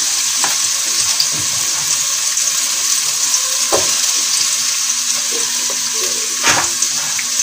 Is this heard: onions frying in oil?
yes